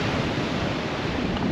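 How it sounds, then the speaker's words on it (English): Sea waves at Whitby West Pier, a continuous loud roar of surf mixed with wind buffeting the microphone, no voices. "It's just the waves."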